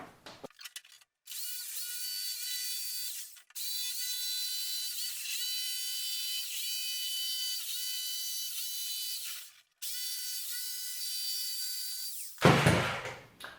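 A jigsaw trims the edge of a wooden couch table panel. Its loud, buzzing motor whine runs in three sustained cuts separated by short pauses, ending with a brief rustle.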